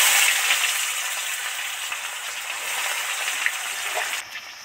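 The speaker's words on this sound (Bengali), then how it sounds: "সবার আগে পেঁয়াজটা ভাজতে দেব" Onions sizzling and frying in hot mustard oil with dried red chillies and a bay leaf, a steady loud crackling hiss throughout that briefly softens near the end.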